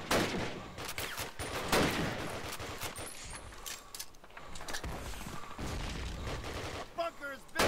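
Heavy crossfire in Call of Duty: United Offensive during a base assault, with dense overlapping bursts of rifle and machine-gun fire from several directions, loud and continuous, and a voice talking briefly over it.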